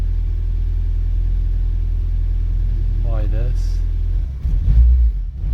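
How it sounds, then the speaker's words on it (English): Fiat Cinquecento 899cc engine running rough and rich with a steady low rumble, then blipped on the throttle for a brief rev near the end; someone talks over it throughout. "So at the moment it is running, that's a little bit of throttle."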